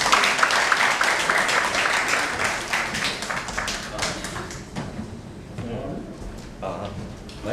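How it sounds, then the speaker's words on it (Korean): An audience claps in a steady, dense round of applause at a university business forum, welcoming a Changwon National University vice president to the stage. The clapping is close and continuous, easing a little toward the end. "박수로 부탁드리겠습니다."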